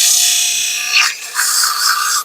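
Abrasive paper rasps against a long wooden stair spindle turning on a lathe, giving a steady, bright, close scratching with a brief surge near one second and a short dip before the sanding resumes.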